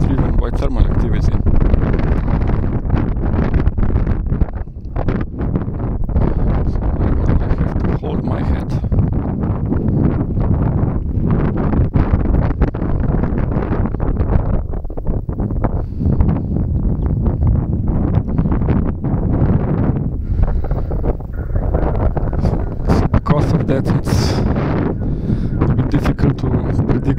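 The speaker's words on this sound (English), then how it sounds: "the wind is coming in gusts, which means it's driven by thermal activity" Strong gusty wind buffeting the microphone at an outdoor model glider competition, a loud continuous roar with surging gusts, and voices talking faintly beneath it.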